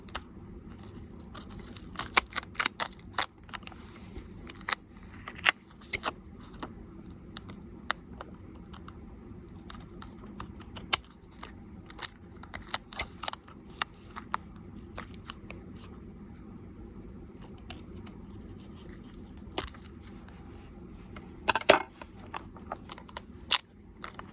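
Paper ephemera being cut down, with small crisp snips and clicks recurring irregularly across a quiet, close background.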